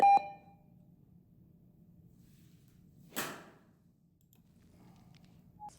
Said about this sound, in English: as soon as you hear the beep, you can start swinging